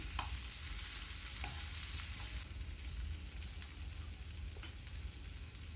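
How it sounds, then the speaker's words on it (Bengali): Finely chopped onion fries in oil as a tempering, giving a soft, even sizzle with a few faint stirring scrapes throughout. "পেঁয়াজটাকে আমি ভেজে নিচ্ছি একটু লাল লাল করে ভেজে নেবো"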